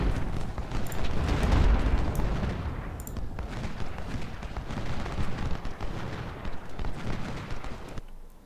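Dense musket and cannon fire from the American Civil War strategy game Ultimate General: Civil War rolls continuously for several seconds, heaviest early on, a rumbling battle din that cuts off abruptly at the end.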